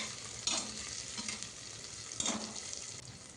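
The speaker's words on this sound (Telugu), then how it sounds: "జీడిపప్పు వేసుకొని జీడిపప్పు లైట్గా ఫ్రై అయ్యేలాగా వేయించండి" Cashews fry lightly in oil in a pan, a steady close sizzle with two short bursts of stirring and spatter, fairly quiet overall.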